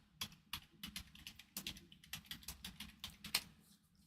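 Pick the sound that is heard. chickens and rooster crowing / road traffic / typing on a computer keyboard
typing on a computer keyboard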